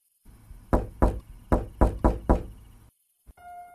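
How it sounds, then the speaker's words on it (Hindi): Knocking on a door in a Hindi horror story: a run of six or seven sharp, close raps in quick uneven rhythm, then silence and a faint final tap alone. "दरवाजे पर दस्तक हुई।"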